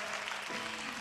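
Congregation applause at a church prayer meeting, a dense steady wash of clapping filling the space, with a faint voice surfacing briefly partway through.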